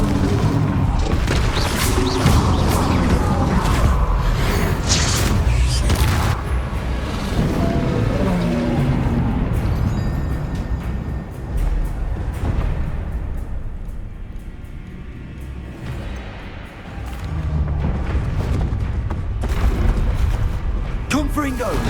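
Explosive spell blasts, Confringo and Bombarda, in Hogwarts Legacy combat: repeated booming bursts and crashes layered over a continuous loud wash of battle noise and music, with a brief quieter dip midway before the clamor swells again.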